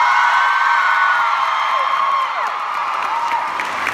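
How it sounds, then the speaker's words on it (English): A large convention crowd at DenverCon cheers and applauds loudly after an on-stage proposal, a steady roar of whoops and clapping that fades slightly toward the end. "One more huge cheer."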